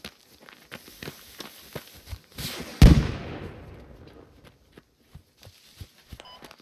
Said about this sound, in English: That was a big-ass explosion